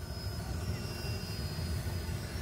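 A DJI Mavic Air 2 drone hovers in place over the Aeropoli field in São Bernardo do Campo while shooting panorama photos, giving a steady, close whirring drone with a thin high whine and no voices.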